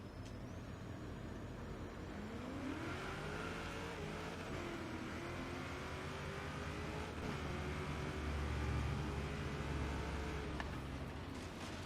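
A 1969 Camaro drag car in Forza Horizon 3 makes a pass, its engine note rising steadily through the gears in a long continuous drone with a brief swell near the end, alone without talk.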